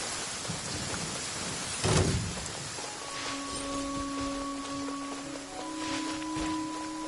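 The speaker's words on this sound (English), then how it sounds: "rain conceals the sound of our arrival, but is also a test of stamina." Steady rain pours in a Genshin Impact cutscene, a dense continuous hiss with a brief louder splash and soft tonal music entering underneath.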